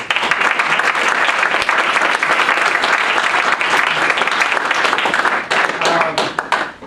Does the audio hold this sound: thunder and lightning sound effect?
no